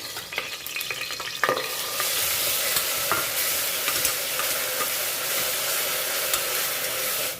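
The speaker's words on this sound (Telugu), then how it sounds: "ఇప్పుడు ఇందులో మనం ముందుగా రెడీ చేసి ఉంచుకున్న ఈ ఆనియన్ పేస్ట్ ఉంది కదా, ఇది వేసేస్తాము" Onion paste hits hot oil with cloves in a pan for chole masala: a brief clatter of stirring, then a loud, steady, close sizzle that carries on to the end.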